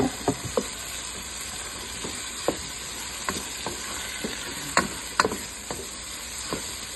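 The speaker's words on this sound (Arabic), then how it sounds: "نحط بسرعه البصل على طول كده عليها اهو" Sliced onions sizzle and fry in a pan with a steady, close hiss while a spoon stirs them, giving scattered light scraping clicks throughout; no talk.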